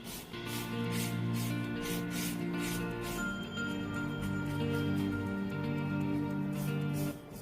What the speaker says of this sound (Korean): 샌드버퍼를 이용해서 표면 샌딩을 합니다